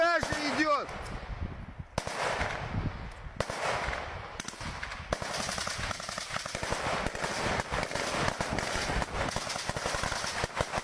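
Gunfire from war footage around Kursk: a long run of rapid, crackling shots and bursts, close and loud, filling the whole stretch, with voices talking faintly underneath.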